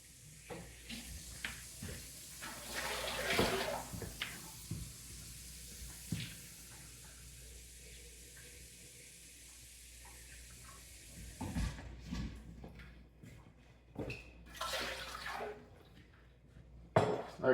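Water poured into a bag of corn grain being prepared for mushroom spawn, quiet trickling and splashing bursts with plastic bag rustles, intermittent and close.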